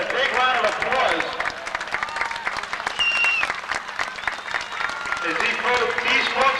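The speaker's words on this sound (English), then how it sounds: "I'll give all these gentlemen a big round of applause" Speedway crowd applauding former track champions at a weekly racing night, dense sustained clapping from many hands with scattered cheers and some talk underneath throughout.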